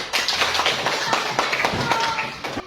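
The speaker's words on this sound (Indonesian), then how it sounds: "Ya, bagus. Tepuk tangan dulu." Children clap their hands during a physical education lesson on two-footed jumping, a quick run of uneven claps and taps filling the space with speech and room noise underneath.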